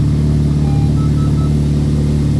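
A totaled Honda Civic Type R runs after being started, its engine holding a steady, loud idle hum with an even pulsing drone and no talk.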